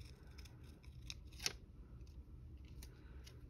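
Scissors cut a section off a planner page, a quiet sequence of close snips with one sharper cut, heard over a steady low background hum with no talking.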